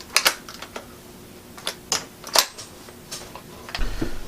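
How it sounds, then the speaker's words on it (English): The bolt of a Ruger 10/22 rifle is racked and its safety worked during a function test, producing a run of crisp metallic clicks and snaps close by, ending in a brief rumble. "Pull the bolt back, make sure the safety works properly."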